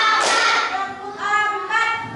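A classroom of students claps together in a counting exercise, producing a few broad bursts of group clapping mixed with voices calling out, fairly loud and close.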